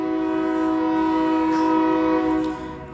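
A loud, sustained train horn blast with a steady harmonic tone, fading slightly at the end, with no talking.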